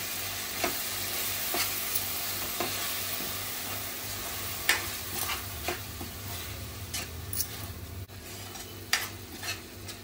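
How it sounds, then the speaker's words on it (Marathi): Okra frying in a pan as spices mixed with yogurt are stirred in, a continuous soft sizzle with irregular scraping and tapping of the spoon, close and without talk. "आता आपण मसाले घालूया जे दहीमध्ये मिक्स केलेत ते। आता मिक्स करून घेऊया।"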